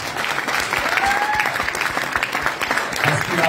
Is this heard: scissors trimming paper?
no